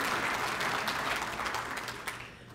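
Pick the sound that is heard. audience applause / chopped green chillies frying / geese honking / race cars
audience applause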